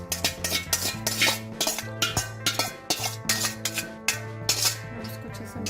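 A utensil stirs macaroni noodles in a pan with repeated scraping clinks and soft rustles in an uneven rhythm, close and fairly quiet.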